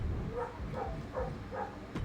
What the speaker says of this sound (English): can you get your dog to stop barking?